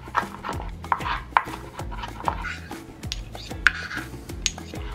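A knife mincing garlic on a cutting board for shepherd's pie, with quick, rhythmic chops close by and a few sharper knocks mixed in.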